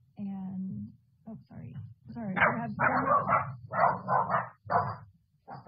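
Several dogs bark in repeated loud, close bursts during a panel discussion, some yips and whimpers mixed in, with people's voices talking over and between the barks.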